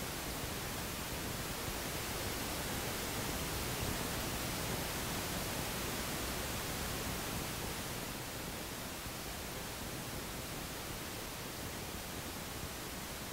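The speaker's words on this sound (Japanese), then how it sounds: "画面表示のように前面左から右に音像が移動します。" A constant hiss of broadband test noise from a 1987 Dolby Surround test tape, its sound image moving across the front from left to right, steady and fairly quiet with nothing else heard.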